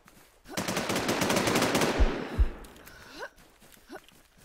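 Automatic gunfire in the survival shooter game Infestation rattles in a loud, rapid stream for nearly two seconds. A couple of heavier thumps follow, then brief voice sounds as the firing stops.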